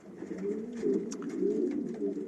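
Pigeons coo softly and continuously in a short, fairly quiet burst of low rolling calls, with no voices present.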